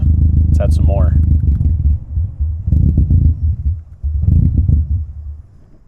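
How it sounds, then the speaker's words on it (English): An engine being tuned through its ECU runs too rich on excess fuel. It rumbles loudly and unevenly, drops out and surges back in uneven bursts, then stalls and fades away. A voice briefly speaks early on. "We've added so much fuel that the engine can no longer run, and it is stalled out."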